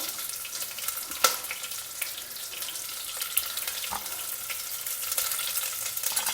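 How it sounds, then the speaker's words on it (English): Sliced onion frying in hot oil with whole spices such as cloves and cardamom, a steady close sizzle with faint clinks and stirring scrapes throughout. "Lightly fry the whole masalas. Next add in the sliced onion."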